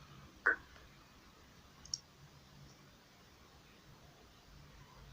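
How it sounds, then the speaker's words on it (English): A computer mouse clicks a few times in a quiet room, with three short, crisp, isolated clicks spaced well apart and nothing else. "click the Browse button"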